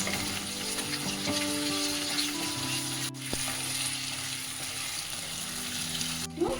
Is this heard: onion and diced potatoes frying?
yes